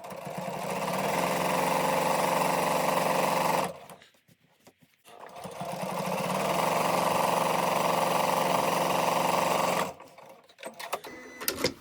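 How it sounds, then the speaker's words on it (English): Sewing machine stitching white thread at a 2.4 stitch length on a quilt block cushion cover, with two long steady runs of loud, fast close whirring separated by a short pause, no talking. "let's start by sewing here, and I'm just going to use white thread"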